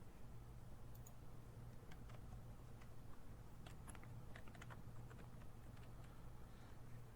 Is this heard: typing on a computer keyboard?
yes